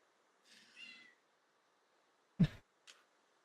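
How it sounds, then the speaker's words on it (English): A cat in Minecraft meows once, followed after a pause by a couple of short, sharp sounds, all against near silence. "So that was a cat in the game."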